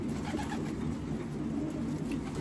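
Racing pigeon cooing softly near the loft after a 250-mile race, low murmuring calls over a dense background hum.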